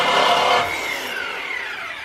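Power saw with a fresh blade cutting through an exhaust hanger rod on a 2011 Silverado, a loud harsh grinding buzz that eases into a whining descending tone as the cut finishes, close with no talking.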